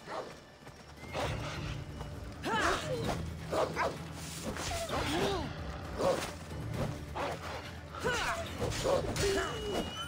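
A hostile dog barks and whines in an ancient Greek setting from the Assassin's Creed Odyssey game, mixed with hoof clatter, horse whinnies and a steady music bed throughout.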